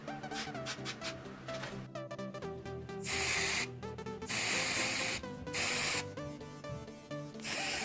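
L'Oreal Magic Retouch root concealer spray can hissing in several sharp bursts, each about half a second to a second long, close and loud over a background of music.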